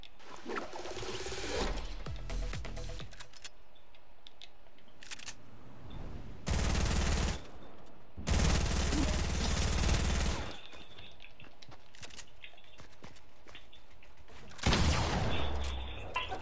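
Gunfire in a video game during a one-on-one match, with bursts of loud automatic fire and scattered shots across a noisy, dense mix, no speech over it.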